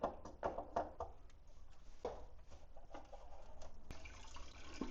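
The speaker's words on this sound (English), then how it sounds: "Pressure relief, so it's kind of draining out now." Water draining from a Giraffe Tools pressure washer after the pressure is relieved, faint irregular drips and trickles close by, followed by a soft steady hiss of flowing water.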